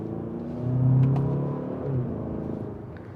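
A 2027 Kia Telluride pulls away under throttle, its engine note swelling and rising smoothly from inside the cabin, then easing off into a steady hum, with no talk.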